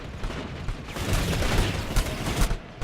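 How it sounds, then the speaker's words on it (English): Controlled bursts of rifle fire in the game Planetside 2, a dense crackle of rapid shots over about three seconds, loud and close with no talk. "so this is a controlled burst fire"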